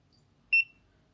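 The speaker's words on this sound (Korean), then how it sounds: "이때 다시 한번 전원 버튼을 눌러주면 자동 시작 모드가 준비되었다고 알림이 나옵니다." A single short, bright electronic beep from an Acaia coffee scale signals that auto-start mode is ready, close and clear in an otherwise quiet room.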